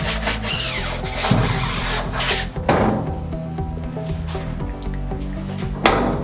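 A silkscreen printing screen is scrubbed with degreaser, a steady close rasping rub with repeated strokes, a few sharper scrapes and wet squishes, and no talking.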